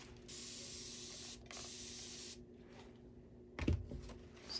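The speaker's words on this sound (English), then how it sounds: "So I'm spraying my alcohol." Alcohol spritzed from a spray bottle onto a mold, heard as steady hissing bursts, one long spray followed by shorter ones, close and fairly loud, with a brief clatter near the end.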